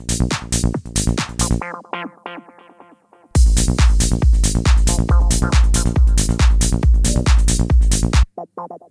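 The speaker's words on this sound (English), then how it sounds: "I'm proud of that guitar sound." A bright, sustained electric guitar lead with a synthetic, processed tone plays a dense run of notes, briefly dropping to a thinner phrase before returning full and loud.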